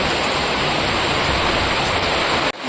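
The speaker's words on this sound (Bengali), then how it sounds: "দেখো সকালবেলা কি রকম বৃষ্টি হচ্ছে" Steady morning rain falling heavily outdoors, a dense, continuous wash of patter close by that holds unbroken until it cuts off abruptly near the end, with no voices.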